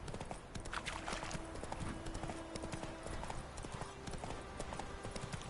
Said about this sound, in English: Alright, my horse's stamina is almost out.